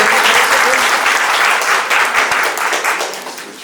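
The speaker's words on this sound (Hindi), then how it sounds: "एक बार तालियां बजाएं आप जोर से" An audience at an award and felicitation ceremony claps loudly and continuously, the dense applause tapering slightly toward the end.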